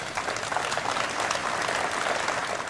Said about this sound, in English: As Harry arrived, there was spontaneous applause from the hundreds of people who travelled from all over Yorkshire